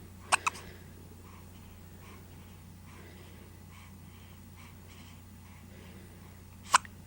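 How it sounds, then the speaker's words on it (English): A person hiccuping: two sharp, short hiccups close together, then a long quiet stretch with faint breathing and room hum before one more abrupt hiccup near the end. "I have the hiccups."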